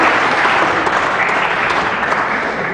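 Loud, full applause fills a tech-talk auditorium as the audience claps for itself after a standing breathing exercise, a steady crowd of hands that eases slightly toward the end.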